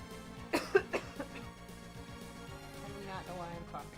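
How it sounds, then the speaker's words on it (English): A person coughs several times in a quick burst of short, fairly close hacks, then one or two fainter coughs follow over steady video game background music. "I don't know why I'm coughing so bad."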